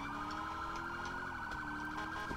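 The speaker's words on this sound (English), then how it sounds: "Dual siren." A police car's dual siren sounds in the FivePD mod of the GTA V video game, two steady electronic wailing tones layered together, loud and continuous with no talk over them.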